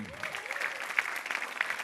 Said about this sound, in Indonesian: ini tepuk tangan yang meriah untuk Junifer Girsang.